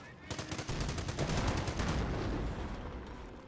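Sustained .30 cal machine gun fire in the Company of Heroes war game, rapid rattling bursts running continuously at moderate distance within a busy battle soundscape.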